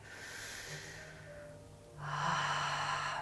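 Steady, breathy ocean-like ujjayi breathing through a narrowed throat during a dynamic yoga class, a soft hiss that fades into a pause and then returns louder with a fuller inhale, close and alone with no talk.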